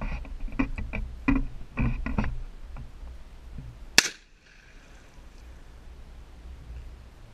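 A single sharp gunshot cracks out during target shooting at a silhouette, preceded by scattered clicks and handling taps, then quiet outdoor ambience afterward.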